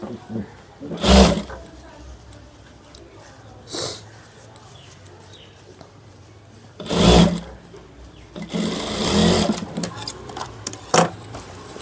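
A tailor's sewing machine stitches a trouser back pocket in several short, loud runs of rapid whirring, separated by quiet pauses, close up.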